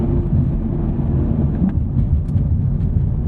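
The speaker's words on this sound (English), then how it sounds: "That V8 rumble" A Chevrolet Camaro SS 1LE's V8 engine gives a deep, continuous rumble heard from inside the car, steady and loud throughout with no talking.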